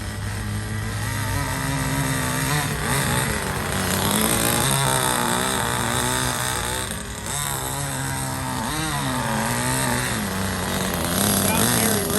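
A Compagnucci two-stroke nitro RC car engine runs loud and close with a raspy, buzzing whine. The pitch rises and falls in repeated throttle blips, and voices talk faintly underneath.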